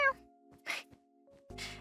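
A male house cat gives two short, cute, high meows with a quieter murmur between them, close and clear in a quiet room.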